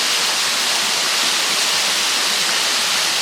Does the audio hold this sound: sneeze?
no